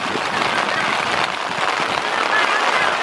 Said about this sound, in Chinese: 现在大雨